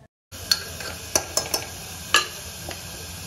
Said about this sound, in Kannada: ಸೊ 1 ಅಥವಾ 2 ನಿಮಿಷ ಅಷ್ಟು ತರಕಾರಿನ ಫ್ರೈ ಮಾಡಿ